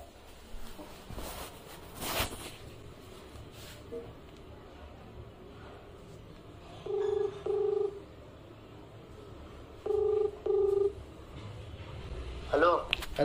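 A phone call's outgoing ringback tone, heard as two paired electronic beep bursts spaced a few seconds apart over faint background murmur and outdoor noise at a festival fair.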